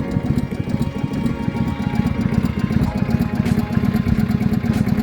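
A small fishing boat's motor engine chugs steadily at close range at Pangi Beach, Blitar, a continuous rattling drone with no voices.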